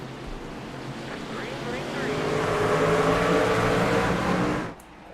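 Race trucks at Richmond Raceway in a racing video game roar up together on a restart, a loud rising engine swell with whining pitch sweeps under a commentator's voice, cutting off abruptly near the end.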